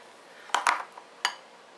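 Dishes clink as homemade mashed potatoes are served into a bowl in a home kitchen: a few sharp, bright knocks and taps, with a quick pair near the middle and one more a moment later, moderately close, no talking.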